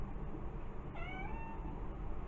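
Indoor cats meow loudly once with a rising, drawn-out call against a constant background hiss while rain keeps them from going outside; no one speaks.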